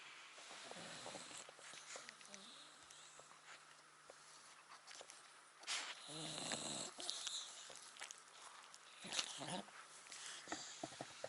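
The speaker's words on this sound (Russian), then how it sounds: "Храпит она так смачно." A dog snoring while asleep indoors, a faint, close, drawn-out breathing rasp repeating in slow cycles with a few louder snorts and rustles, no talk.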